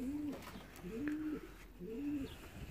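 An exhausted racing pigeon, just returned from a 700 km race from Pscelnik, coos softly nearby in three rolling calls with short gaps between them, alone without talk.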